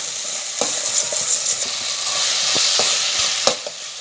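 Ginger and garlic stirred and fried in a pan with tomatoes, a loud continuous sizzle broken by scattered scraping taps of the spoon against the pan, close by.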